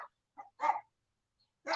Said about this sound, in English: can you guys hear the dog?